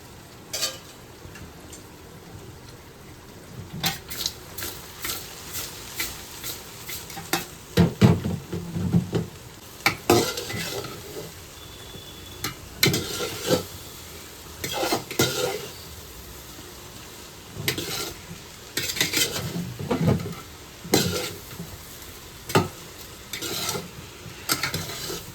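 A spoon stirs a sweet dish in a pan, making repeated scraping strokes over a faint sizzle. Scrapes come in irregular bursts, fairly close and moderately quiet.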